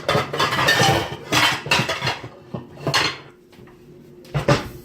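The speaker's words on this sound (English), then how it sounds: "let me get down here so I can get this white skillet" Someone crouches to pull a white skillet from a kitchen cupboard to cook hash browns: clanking pans, rattling metal and cupboard bumps in several close, uneven bursts, then a pause and a final clatter.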